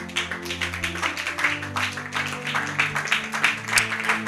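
A church congregation applauding for the Lord Jesus, a sustained wash of clapping mixed with music and voices at a lively, even pace.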